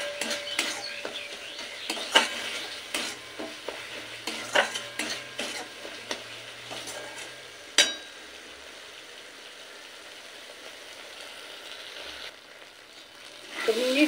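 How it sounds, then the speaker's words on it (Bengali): Masala for a bitter gourd curry stir-fried in a pan, a low sizzle with rhythmic spatula scrapes and metal clinks against the pan, then a quieter simmer and a final clatter; no speech. "একসাথে আবারও সমস্ত কিছু মিশিয়ে একটু কষিয়ে নেব।"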